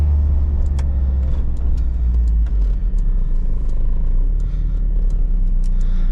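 A 1988 Volkswagen Scirocco 16v driving on the road heard from inside the cabin, with a steady low engine rumble and road noise that holds level for about six seconds, no speech.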